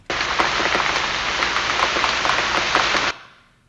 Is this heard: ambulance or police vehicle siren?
no